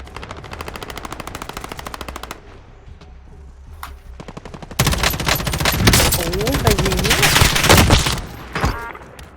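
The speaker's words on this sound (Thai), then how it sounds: "ยิงรถเพื่อน ยิงรถ" Automatic gunfire in Call of Duty Warzone aimed at vehicles: rapid machine-gun bursts, first a steady rattling stream, then louder dense volleys mixed with impacts and game effects, with someone talking over it.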